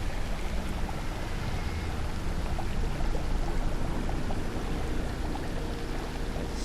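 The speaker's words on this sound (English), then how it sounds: "There's a spot where more water coming out." Water pours steadily in a cave in Lord of the Rings Online, a continuous close splashing rush with no break or talk.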